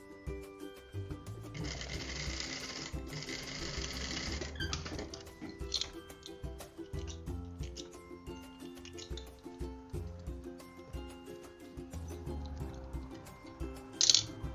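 A sewing machine stitches a fabric seam, joining matched edges with a seam allowance. It makes a close, continuous mechanical whir with rapid rhythmic needle ticks and some clattering, and a short sharp click comes near the end.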